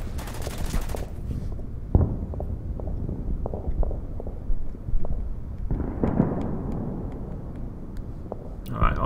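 Mortar rounds and gunfire in the war strategy game Order of Battle, set on Guam with US Marines: a burst of loud blasts opens, followed by scattered sharp shots and thuds over a dense rumbling battle bed.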